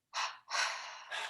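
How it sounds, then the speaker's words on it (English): Two forceful breaths pushed out in quick succession during a Hong-Sau meditation breathing exercise, close and loud, followed by a shorter third rush of air, with no talking. "double inhale, tensing, and double exhale"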